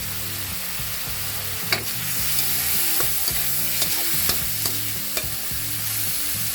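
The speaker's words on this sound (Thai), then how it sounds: "นี่ผัดให้พอหมูสุก หลังจากนั้นก็ ใส่ถั่วลงไป" Long beans and pork belly stir-fried in a pan with soy sauce, a steady sizzle broken by a series of sharp utensil scrapes and clacks at an uneven rhythm, close and fairly loud, no talking.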